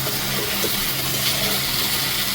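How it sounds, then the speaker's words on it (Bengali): Hot water poured into a pan of frying poa fish masala makes a steady, close gushing hiss with a low hum underneath, without talk. "একটু উল্টিয়ে পাল্টিয়ে তারপরে এর মধ্যে গরম জল যোগ করে দেব"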